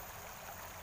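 River water flowing steadily in a continuous, close broadband rush, with no voices over it.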